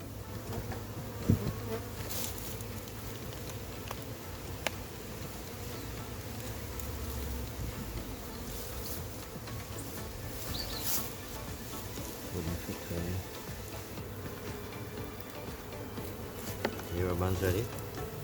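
A massive honey bee hive being cut out buzzes continuously, a dense droning hum of many bees close by, with occasional louder passes of individual bees and faint background sounds.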